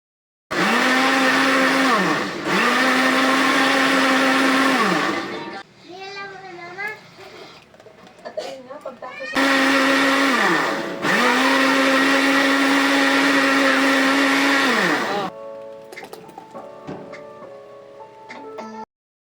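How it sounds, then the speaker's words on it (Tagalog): A blender whirs loudly through two long bursts of several seconds each as it purees a pichi-pichi mixture, with quieter kitchen clatter and faint sounds between the runs. "Para po maging malambot ang ating pichi-pichi, ito po ay biniblender ko."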